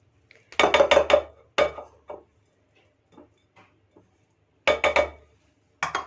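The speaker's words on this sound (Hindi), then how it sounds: "स्पैचुला की मदद से मैं इसकी साइड्स जो हैं वो इस तरह से क्लीन करूंगी" A spatula scraping around the sides of a mixing bowl of biscuit dough, in short clustered bursts of scraping and clinking separated by pauses.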